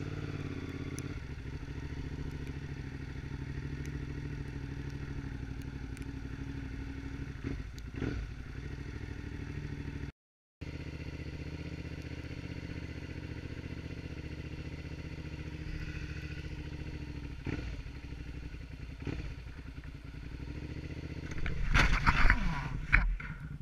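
A Suzuki SV650 motorcycle riding through snow, its engine droning steadily at moderate loudness with brief dropouts, then a louder rough clattering burst near the end.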